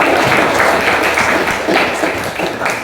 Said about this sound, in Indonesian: Oke, kasih aplaus untuk teman kita.